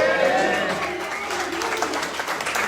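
Church congregation applauding at a Feast of Tabernacles service, a dense, steady wash of clapping that holds at an even level throughout, with voices mixed in underneath.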